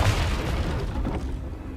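Confringo blast spell in a wizard video game, a single deep booming explosion that hits loud at once and then rumbles away over about two seconds.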